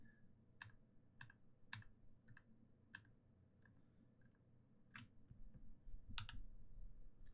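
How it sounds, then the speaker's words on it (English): Keystrokes on a new mechanical keyboard, a loose run of quiet clicks spaced irregularly, with a denser burst near the end, over a steady low background hum. "I just started typing."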